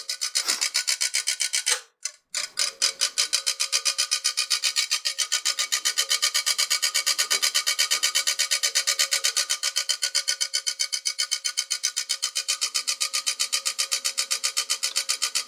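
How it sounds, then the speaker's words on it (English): A failing, wobbly computer case fan grinds with a rapid, regular scraping rasp, loud and close, broken once by a short stop before resuming steadily with no speech. "as we can hear, this fan's all wonky"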